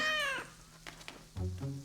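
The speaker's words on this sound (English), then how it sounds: "Caillou loved his new kitten very much." A cartoon kitten gives a clear, bright meow with a falling pitch, followed after a pause by a shorter, lower mew, both close and alone over a faint background.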